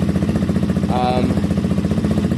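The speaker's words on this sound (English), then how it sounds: "that's the final sound of the bike" A KTM 125 motorcycle with a Black Widow aftermarket exhaust, baffle fitted, idles loudly with a steady rapid two-stroke putter, close by and continuous, with a short higher whine rising briefly in the middle.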